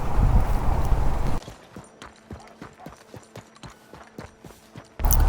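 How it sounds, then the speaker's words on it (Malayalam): Horse hooves in Red Dead Redemption 2 beat out a rapid, evenly spaced clip-clop of a running gallop, crisp and fairly close, framed by louder rushing noise at the start and end. "കുതിര അങ്ങ് ദൂരെ കിടക്ക് ഓടി വന്നപ്പോൾ അറിഞ്ഞില്ല."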